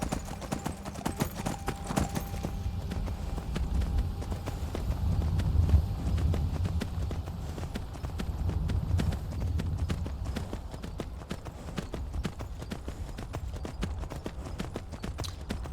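Horse hooves clip-clop steadily at a riding pace in Skyrim, a near, continuous rhythmic patter over a low game ambience with the occasional faint whinny.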